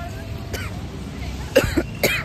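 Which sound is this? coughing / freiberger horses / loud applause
coughing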